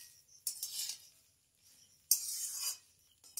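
Spatula scraping and stirring through a pan as fried egg is mixed into a cooked dish, two bright scraping strokes with quiet pauses between, close and soft.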